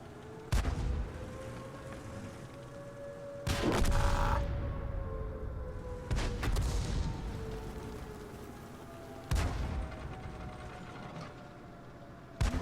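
Tank cannons firing high-explosive shells in a tank battle video game, with about five sharp, heavy booms at irregular intervals over a constant mechanical rumble and clanking.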